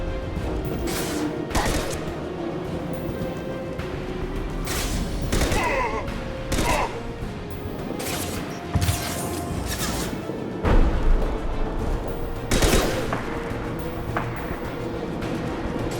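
Gunfire in the video game Mass Effect 2 as a squad fights berserkers and commandos: scattered sharp shots and short bursts crack over a continuous bed of battle noise and mechanical effects.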